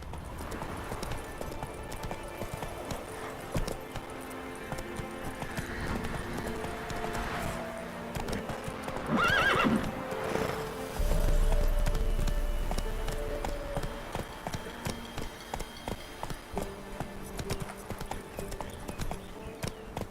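In The Witcher 3 video game, a horse gallops with a continuous rhythmic drumming of hooves, joined now and then by a snort, with a deep boom and a whoosh in the middle.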